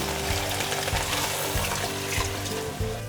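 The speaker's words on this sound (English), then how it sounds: "Top it off with 4 cups of vegetable stock." Vegetable stock is poured over lentils into a cooking pot, making a continuous close splashing, gurgling liquid sound with no talk.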